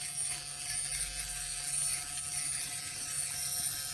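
A hand poke tattoo machine from a DIY stick-and-poke kit runs at 12 volts, giving a steady, continuous mechanical buzz with a fine ratcheting rattle, close and alone with no talk.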